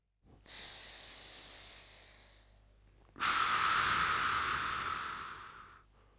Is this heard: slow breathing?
yes